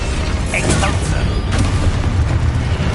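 An Exposo explosion spell goes off in Hogwarts Legacy, a loud, dense booming rumble that fills the whole stretch with blast noise and debris. A voice can be heard beneath it.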